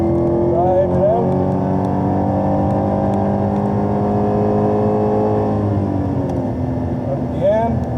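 A car drives through a turn on a race track at a steady throttle, its engine droning loud and continuous from inside the cabin, with a voice talking over it.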